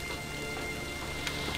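Rain in the video game Die Gilde falls as a steady, even hiss of drops with a few brief ticks and no voices.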